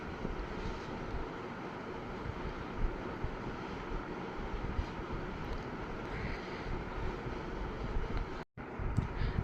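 Onions and chilli paste sizzle and fry steadily in a pan for an Andhra buttermilk rasam, a continuous dense crackling hiss at fairly close range, with no talking over it.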